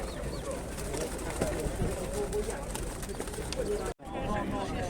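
Pigeons coo softly amid a busy, noisy animal market in Lublin, their low murmuring calls mixed with faint chirps.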